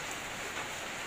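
Evening rain starting to fall outdoors in Kon Tum where wild orchids are kept, a steady, even hiss of drops filling the whole moment without pause.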